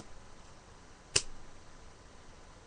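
A single soft slap against a faint background hiss, like a palm smacking a coin down onto the back of a hand.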